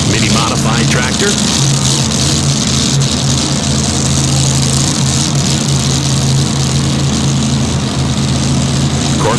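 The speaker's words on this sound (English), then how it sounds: "with the Vibrator mini modified tractor" Mini modified pulling tractor at a tractor pull in Farley, Iowa, its engine a loud, steady droning roar with a strong low hum, continuous and unbroken, with an announcer's voice partly under the noise.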